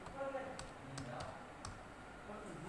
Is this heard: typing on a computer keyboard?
yes